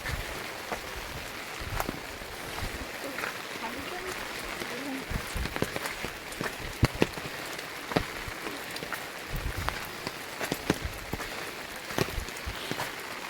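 Rain falls on a hilltop in the Konkan during the first monsoon shower, a steady soft hiss dotted with scattered sharper drop taps close by.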